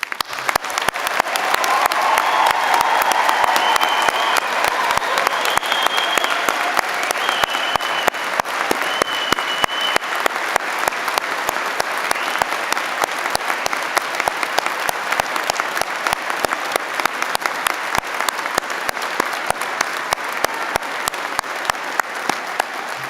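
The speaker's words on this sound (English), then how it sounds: "Let us honor these incredible graduates with one final rousing round of applause." A graduation ceremony audience gives a sustained round of applause, dense steady clapping from a large crowd that lasts throughout, with faint voices mixed in.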